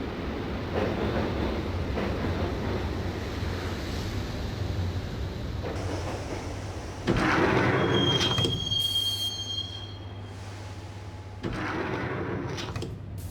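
A train rolls on its rails in the Max Payne video game, with a loud steady rumble, a squealing wheel screech partway through, and the noise easing then returning toward the end.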